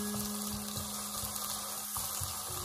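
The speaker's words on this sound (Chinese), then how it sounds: "再把姜蒜末小米辣全部放入锅中给它翻炒一下" Minced ginger, garlic and bird's-eye chili are stir-fried in a wok with minced pork, making a continuous bright sizzle with soft scraping stirs at a steady pace.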